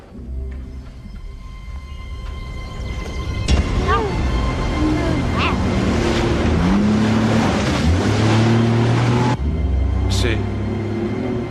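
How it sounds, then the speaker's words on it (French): An engine hums steadily in a tense action-film scene, a continuous mechanical drone beneath several talking voices, with sliding tonal whines and sharp bursts rising over it. "C'est un moteur qu'on entend."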